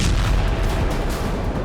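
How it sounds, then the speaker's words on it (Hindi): Continuous rumbling blasts and booms, loud and dense, like a string of explosions going off close together. "पहले एक जोरदार धमाका हुआ और फिर कई छोटे छोटे ब्लास्ट होने लगे।"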